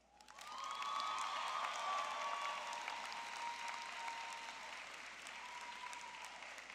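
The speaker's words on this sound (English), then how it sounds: "So a round of applause now for all of our graduates." A crowd claps steadily in sustained applause for graduates at a university commencement ceremony, fairly distant, with a soft tonal hum running underneath throughout.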